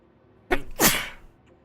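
A single sharp sneeze, close and loud, with a quick intake burst followed by the main explosive release, then quiet.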